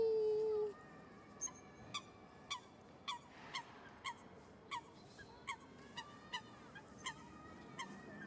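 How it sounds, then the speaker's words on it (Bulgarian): Swans and ducks honk in a steady series of short, evenly spaced calls, roughly one per second, over a soft outdoor background, with one brief louder tone at the start. "Лебед!"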